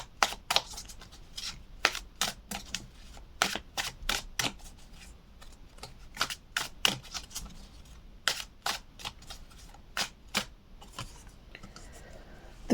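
Tarot cards being shuffled and drawn, a steady run of sharp, close papery snaps and flicks in quick irregular bursts with brief pauses between, no talking.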